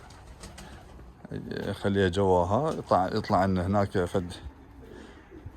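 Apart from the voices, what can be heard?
Iraqi pigeons cooing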